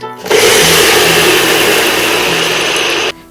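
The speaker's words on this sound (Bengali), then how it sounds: "মিক্সিতে চাল আর ডালটা ভালো করে বেটে দিয়ে দিলাম" A kitchen mixer grinder whirs loudly and steadily while grinding soaked rice and lentils into batter, starting abruptly and cutting off after about three seconds, alone with no talk.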